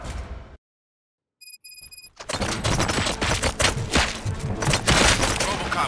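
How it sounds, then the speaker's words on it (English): Gunfire from the video game Robocop: Rogue City bursts out after a brief silence and a few electronic beeps, a dense rapid fusillade of loud shots with booms mixed in, running continuously to the end. "Gunshots? What's going on?"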